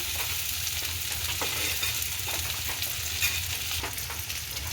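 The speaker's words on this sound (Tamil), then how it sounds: "சேர்த்து கிளறி விடுவோம். உள்ளியில் சேர்ந்து பொரியட்டும்." Dried fish and onion fry steadily in hot oil, giving a dense, continuous close sizzle with soft scraping stirs throughout and no talking.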